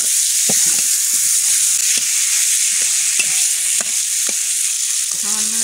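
Pieces of chicken meat fry loudly in a pan with a dense continuous sizzle, while a spoon scrapes and taps against the pan at irregular intervals throughout.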